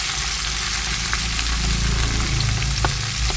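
Okra sautés in a hot pan for vendakkai kara kulambu, with a loud, continuous crackling sizzle, close and steady, and occasional stirring taps.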